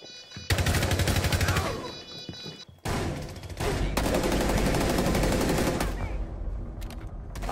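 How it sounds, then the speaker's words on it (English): Rapid gunfire in a ranked video game match, including shotgun blasts, bursts loud and dense for most of the stretch with brief pauses, and no clear talk over it. "Oh, he had a shotgun."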